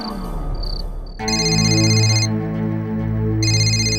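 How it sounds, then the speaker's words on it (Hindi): A loud electronic phone ringtone plays a bright repeating melody, starting after a moment of quieter background and pausing briefly mid-way before resuming. "टप्पू प्लीज फोन उठाओ यार"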